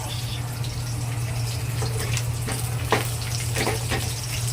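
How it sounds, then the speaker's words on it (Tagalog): Garlic frying in a pan for Filipino lugaw, heard as a continuous close sizzle with intermittent scraping stir strokes and a steady low hum beneath. "mapupula na, pupula na yung bawang ito"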